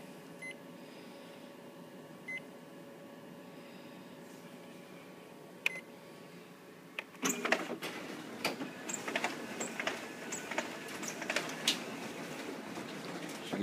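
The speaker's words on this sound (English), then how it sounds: "We'll take and run these through the document feeder, make sure that works properly," A Ricoh 9001 office copier feeds sheets through its document feeder and finisher: quiet beeps and faint ticks at first, then a sudden onset of busy mechanical whirring and clicking that continues steadily.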